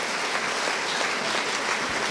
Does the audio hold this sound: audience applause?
yes